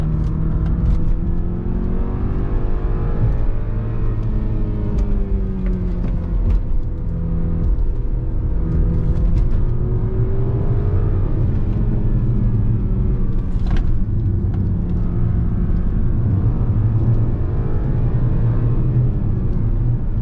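Turbocharged 2.0-litre engine of a 2013 BMW X1 SUV (245 hp) droning steadily while driving on smooth asphalt, with low rumble and rising and falling pitch as it accelerates, loud and continuous for the whole stretch.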